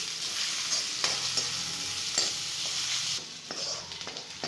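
Finely chopped large onion frying in a pan for pav bhaji and being stirred, giving a steady sizzle broken by several scraping strokes of the spoon.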